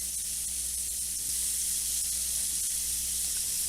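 Breaded chicken nuggets crisping in a pan on a stovetop give off a steady, close sizzle of hot oil, a constant hissing wash with no break or talking.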